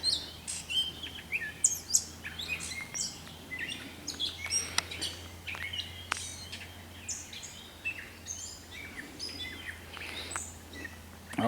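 Bird calling at Glimmerglass State Park in Cooperstown, New York, at evening: repeated bright chirps and tweets, some close and some farther off, over a steady low hum, with no talk.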